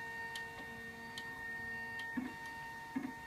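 A Zebra ZXP Series 3 card printer runs its cleaning cycle, giving quiet, regular mechanical ticks and a couple of soft clunks over a faint steady electrical hum.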